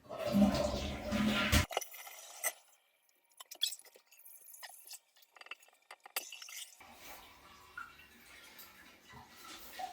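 Toilet tank being flushed empty during a home toilet and wall valve replacement, a loud rushing flush for under two seconds, then sparse drips, gurgles and small knocks in a quiet room.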